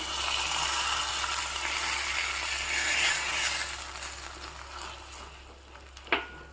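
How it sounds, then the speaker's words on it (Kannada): Hot oil tempering with mustard seeds, cumin, urad dal, curry leaves, a dried red chili and asafoetida for a Mangalore-style okra dish, a steady close crackling sizzle that fades slightly near the end, with a sharp clink of a utensil. "ಎಣ್ಣೆ ಸಾಸಿವೆ ಸ್ವಲ್ಪ ಜೀರಿಗೆ ಬೇಳೆ ಕರಿಬೇವು ಮತ್ತು ಒಂದು ಒಣಮೆಣಸು ಸ್ವಲ್ಪ ಇಂಗು ಹಾಕಿಬಿಟ್ಟು ಒಗ್ಗರಣೆ ಹಾಕ್ತಾ ಇದ್ದೀನಿ"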